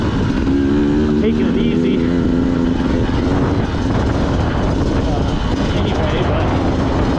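A 2020 Beta 200 RR motorcycle engine revs steadily and loudly throughout, with a rider talking briefly over the engine noise.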